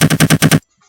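A toy gun fires a rapid burst of six loud, close shots in an even rhythm, then cuts to silence.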